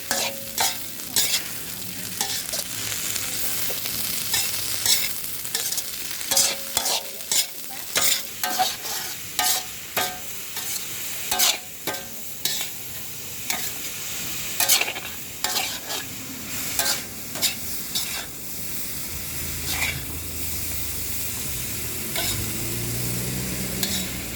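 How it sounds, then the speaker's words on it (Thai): Steady frying sizzle with frequent scraping and clattering of a utensil stirring crickets as they roast in a pan, continuing for a long stretch. "คั่วจิ้งรีด"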